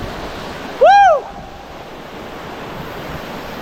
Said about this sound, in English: this is one of the things that I loved about this waterfall